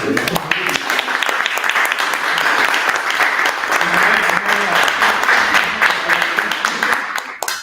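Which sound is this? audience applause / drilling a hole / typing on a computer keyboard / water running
audience applause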